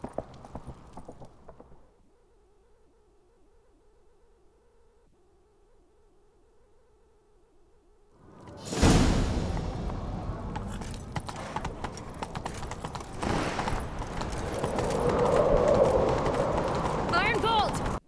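In The Witcher 3 video game, after a quiet low hum, horse hooves erupt into a loud, thundering gallop that keeps pounding, with voices sounding over the rush.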